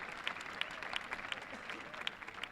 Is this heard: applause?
yes